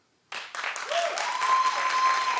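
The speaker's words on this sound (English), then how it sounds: "Clap if you see Beyonce as a fashion icon." Studio audience on a daytime talk show clapping after a sudden start, a dense steady burst of applause with a sustained tone running underneath.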